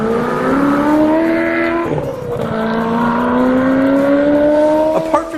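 A Ferrari 4.2 liter V8 engine and exhaust rev loudly and close, the note climbing steadily in a long continuous run, briefly dipping between shifts before rising again, with no voices.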